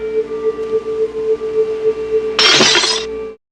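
A glass pearl shatters in a Scooby-Doo cartoon: a steady ringing tone, like a tuning fork, is followed by a loud, sudden burst of breaking glass that cuts off sharply.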